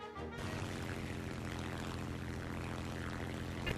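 A German World War II-era propeller aircraft engine from the War Thunder video game drones steadily, a continuous, even roar throughout, moderately close and unbroken, with no voices.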